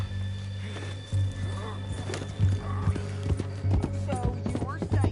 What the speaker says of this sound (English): Meet the horse.